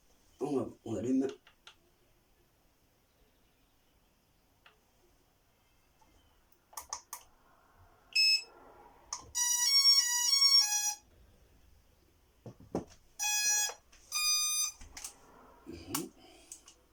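A Hubsan Zino 2 drone remote control powers on with several bright melodic beep sequences and scattered clicks spread across a mostly quiet stretch, with a brief voice near the start and end.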